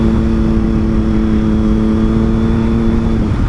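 Triumph Daytona 675 motorcycle fitted with an Arrow slip-on exhaust, a loud, steady engine note with a strong sustained tone held at speed throughout, ending with a slight drop.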